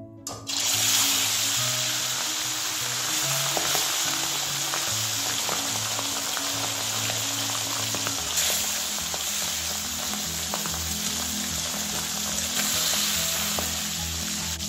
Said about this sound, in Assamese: মই এতিয়া মাছখিনি অলপ ভাজি লওঁ